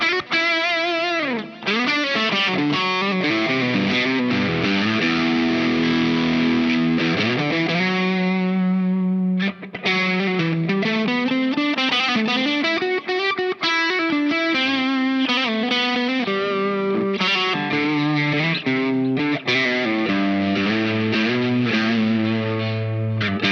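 Electric guitar played through a Dazatronyx RAD Distortion pedal, four-knob version, with echo added: sustained, heavily distorted chords and bending notes ring out continuously and loudly for over twenty seconds, with no talking.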